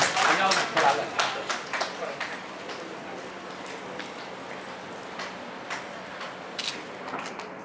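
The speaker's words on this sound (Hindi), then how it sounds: "बिल्कुल जोरदार तालियां विद्या जी सेन की" Applause from an audience at the Rajasthan Karmveer Award 2024 ceremony honouring an award recipient. Dense, bright clapping is strongest in the first two seconds, then thins into scattered claps and fades to a low murmur.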